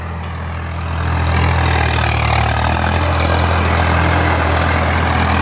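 A Swaraj 855 FE tractor engine runs in a field, a loud, steady low diesel rumble that swells after the first second and holds constant.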